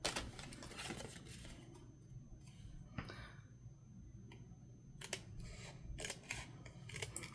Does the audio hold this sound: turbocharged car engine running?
no